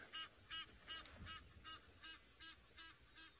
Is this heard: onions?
no